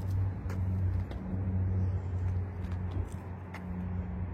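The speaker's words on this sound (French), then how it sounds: "il a vu un beau char jaune puis il veut qu'on aille voir" A yellow car driving by outdoors, a steady broad engine and road rumble that stays loud throughout without a clear rise or fade.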